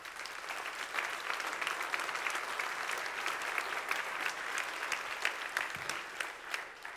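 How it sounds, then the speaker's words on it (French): A conference audience at a congress applauds two colleagues who stand up, producing dense, steady clapping throughout at a fairly low, distant level with no talk over it. "je propose que Stéphane et Joël, vous vous leviez pour qu'on vous applaudisse"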